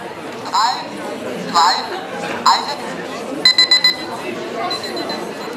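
A timer alarm chirps in short repeated bursts during a seminar, with a quick rapid cluster near the end, under an audience's continuous murmur and chatter.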